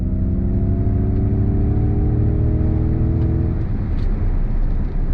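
A 2023 Ford Mach-E GT electric SUV pulls away from a dead stop, its steady electric whine and tonal hum holding loud and close before broadening into rising road and wind roar.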